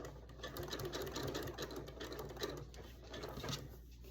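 A sewing machine zigzag-stitches fabric-wrapped rope into a blue and white rope bowl, a steady rapid needle chatter running close and continuous throughout.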